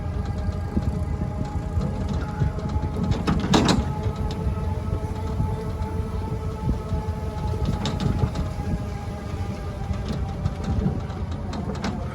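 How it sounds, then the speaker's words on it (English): A row of steam engines runs at an outdoor steam and gas show, a dense, continuous mechanical rumble with clattering and occasional louder hissing bursts. "here are a bunch more steamers on the right hand side going up toward the sandbox"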